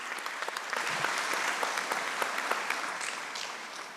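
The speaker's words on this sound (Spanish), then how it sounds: "Un fuerte voto de aplausos para él, por favor" Applause from a panel audience at a public-service congress, steady clapping from a moderate-sized crowd for about four seconds, fairly close and even, with no voices over it.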